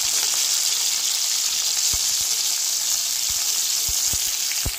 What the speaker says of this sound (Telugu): ఇదిగోండి ఆనియన్స్ ఫ్రై అవుతున్నాయి కదా